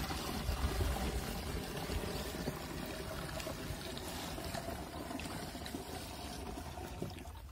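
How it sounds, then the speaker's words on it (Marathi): Water pouring into a sprayer pump tank while preparing to spray a maize crop, a steady splashing and trickling rush that runs continuously at moderate level with no talk. "आपण आता लगेच पंपात पाणी टाकून घेऊया"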